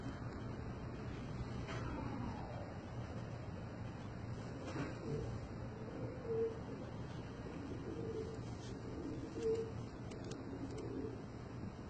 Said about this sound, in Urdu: اس کبوتر ہے ماشاء اللہ